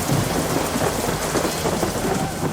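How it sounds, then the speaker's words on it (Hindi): Heavy village downpour with thunder, a dense steady roar of rain drumming on surfaces and low rumbling throughout, loud and continuous with no voices. "गांव में तेज बारिश हो रही थी।"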